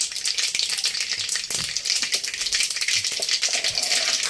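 Peanuts fry in hot oil in a pan for poha, a loud close hiss and crackle with light rattling as they are stirred, and no talk.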